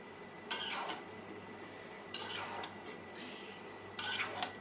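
Three separate bursts of metal scraping as bottle gourd and meat are stirred in a pot, each lasting about half a second, against a quiet background with a low hum.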